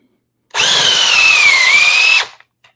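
A DeWalt Flexvolt Advantage 999 power drill runs in one loud, close burst of about two seconds with a high motor whine that dips slightly in pitch, then stops abruptly.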